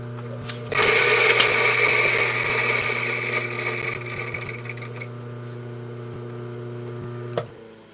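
A burr coffee grinder set finer grinds coffee beans, starting abruptly with a loud buzzing whir over a steady low hum that gradually softens before cutting off with a brief clack near the end.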